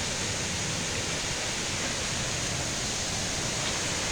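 A waterfall by a memorial garden in Hayfield village pours with a steady, broad rushing hiss that stays even and unbroken, with no voices over it.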